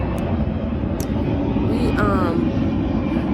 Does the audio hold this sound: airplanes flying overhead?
yes